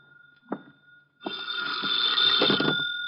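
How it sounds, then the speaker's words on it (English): Old-time radio drama telephone bell effect: a short knock or click, then a loud, sustained electric ring with a steady bright tone, heard alone and close. "the phone started ringing."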